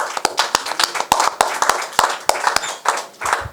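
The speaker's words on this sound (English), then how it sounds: "So I'd like to give a round of applause to Amanda, Nina, and Jake for that achieveme" A crowd at a professional boxing event claps, with sharp, separate hand claps in an uneven rhythm, fairly close and loud, and faint voices underneath.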